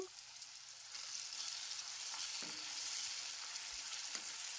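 Salted tomatoes fry in a pan with a steady, soft sizzle, and a utensil scrapes and stirs through them now and then, close and quiet with no talking.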